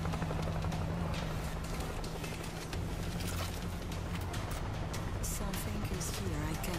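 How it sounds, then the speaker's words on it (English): A helicopter in the zombie shooter World War Z gives a steady, loud rotor thrum with a low engine hum throughout, under game noise and players talking. "I think that chopper is on the ground."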